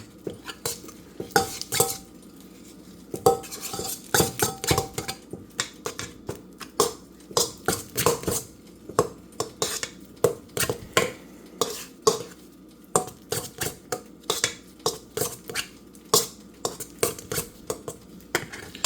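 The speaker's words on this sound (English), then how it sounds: "I'm gonna cream my butter until it's like a margarine-like consistency" Butter being creamed in a bowl for red velvet waffles, with a utensil scraping and clinking against the bowl in quick, uneven bursts throughout, close and fairly loud with no talking.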